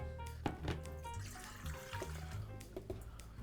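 About 300 grams of water poured into a mixing bowl for holiday breakfast bread dough makes a steady, faint splashing trickle that runs continuously for a few seconds, close by, with no talking.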